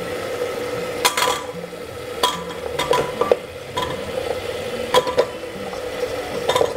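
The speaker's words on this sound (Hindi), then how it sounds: "इस स्टेज पे मैं इसमें अपने छिले हुए सिंघाड़े डाल" Peeled water chestnuts tossed into a pan and stirred, with a steady sizzle and repeated scraping, clattering spoon strokes against the metal, fairly close and with no talking.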